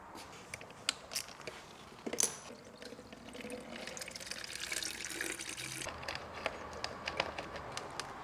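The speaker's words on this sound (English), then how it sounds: "And so the next thing we're going to do is drain the coolant." Coolant drains from a 2023 GasGas MC 85 two-stroke dirt bike engine, a steady trickle and splash of liquid pouring into a container, with scattered clicks and taps of handling around it, fairly quiet and close.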